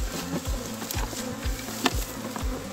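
Bees buzz loudly and close, a dense droning hum with repeated swells as insects fly near, no talking.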